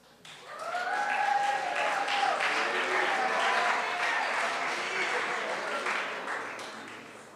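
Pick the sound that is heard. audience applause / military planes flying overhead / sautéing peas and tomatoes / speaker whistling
audience applause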